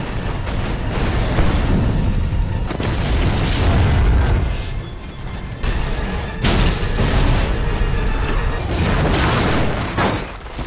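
Explosions in an action film scene involving a car nearby: heavy, loud booms and bursts with rumbling debris, several sharp blasts that roll on continuously without pause.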